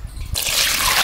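Cooking oil pours into a pan for Indian village-style rajma, a steady close hissing trickle that starts abruptly and runs on continuously.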